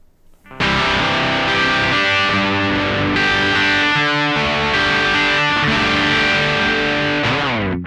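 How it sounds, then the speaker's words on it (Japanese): A Gibson ES-335 played on its rear pickup through a BOSS DS-1 distortion pedal, with all knobs centred and a Koch Pedaltone preamp after it, gives a loud, gritty, edgy distorted chord riff that sustains densely for about seven seconds before cutting off. "非常にですね、エッジの効いたですね、粗い歪み、すごいザラザラした印象の音です。"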